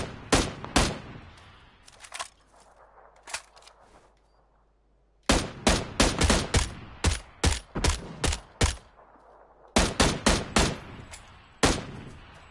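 Gunfire in the mobile battle-royale game PUBG Mobile: loud bursts of rapid shots fired in clusters, with quieter gaps between volleys and a brief pause before heavier strings of shots resume.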